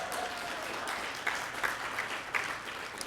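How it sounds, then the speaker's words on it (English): A conference audience applauds steadily for a few seconds, a dense wash of clapping heard from within the hall, with no speech over it. "applause."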